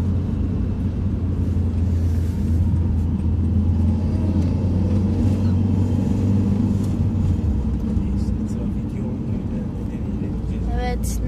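A car driving through city traffic gives a steady, loud engine and road rumble that shifts slightly in pitch, with people talking in the car throughout.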